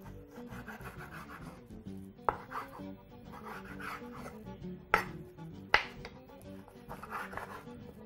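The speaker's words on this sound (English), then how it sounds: "Now proceed to slice right to the very end." A knife slices lamb meat off the bone, giving soft repeated scraping and rubbing strokes with a few sharp knocks against the board, close and fairly quiet.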